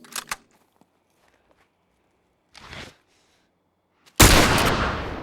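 Rifle gunshots in The Last of Us, hotel lobby scene: a few sharp bangs separated by quiet gaps, ending in a loud, sustained burst of noise.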